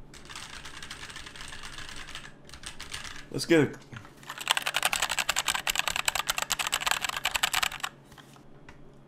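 Typing on a Klim keyboard, a steady patter of clicky keystrokes in two long bursts, fairly close, with a brief spoken phrase between them.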